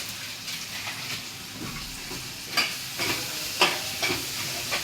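Chicken curry spices, with chilli powder and turmeric, sizzle and fry in a pan while being stirred, with a steady hiss broken by a few scraping clatters close by.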